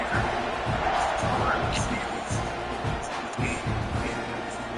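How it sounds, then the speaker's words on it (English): Stadium crowd in the College Football 26 video game, buzzing after a score before a kickoff: a dense, continuous roar and babble of cheering with scattered peaks, under play-by-play commentary. "this crowd is buzzing after that last score"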